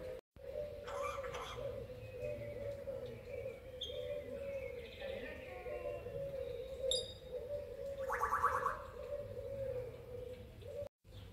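A caged bird sings in short chirps and warbling phrases over a constant low hum, fairly faint and at some distance atop a building near the Palacio de las Dueñas in Spain, with brief louder trills.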